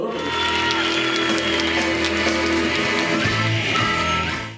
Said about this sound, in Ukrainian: творця україномовного гумор-шоу притулу зустрічають гучними оплесками